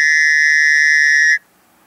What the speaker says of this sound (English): So now people will be able to hear this whistle.